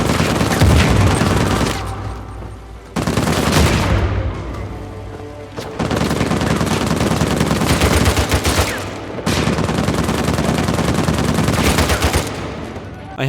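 Uncharted 4 gunfire on PlayStation 4 comes as sustained, loud bursts of rapid automatic shots and booms, broken by brief pauses, with a dense continuous barrage filling most of the stretch.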